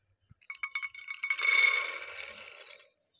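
Dried black chickpeas pour into a metal pressure cooker, starting as a few separate clinks and building to a brief, bright rattling rush that trails off after about two seconds.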